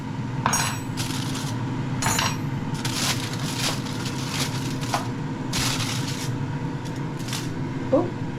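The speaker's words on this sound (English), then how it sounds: "Remove the foil." Aluminium foil is peeled off a roast chicken in a Ninja air fryer, giving sharp crinkles and crackles in close, irregular bursts over a steady kitchen hum.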